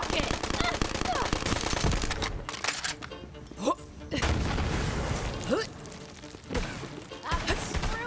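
Gunfire in the looter shooter Borderlands 3, loud sustained automatic bursts with sharp cracks and heavier booms, broken by brief pauses, while character voices speak over the action.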